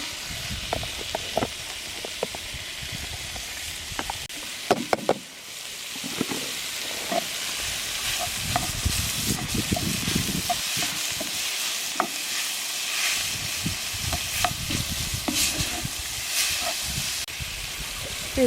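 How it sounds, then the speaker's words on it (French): Meat searing over hot coals gives a continuous hissing sizzle, close and moderately loud, with intermittent clicks and scrapes and a brief dip partway through, and no talking. "je vais commencer par saisir la viande"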